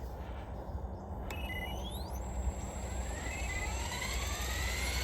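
A Trex 550L RC helicopter spools up for a test flight, its electric whine rising steadily in pitch over a constant broadband rush, loud and close with no talking.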